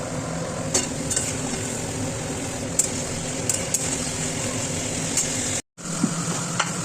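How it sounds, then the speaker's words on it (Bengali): Chicken frying in a pan gives a steady, close sizzle with occasional light clinks of stirring and one brief drop near the end. "ভাজা ভাজা হবে চিকেনটা"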